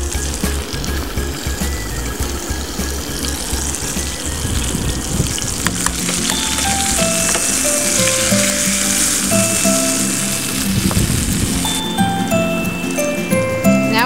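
Tomatoes hit a hot pan with thyme for a lemon caper sauce, setting off a loud, steady sizzle and crackle of frying that fills the space close by, with no talking.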